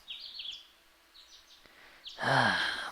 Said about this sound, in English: I could hear the refreshing sounds of birds chirping outside my window.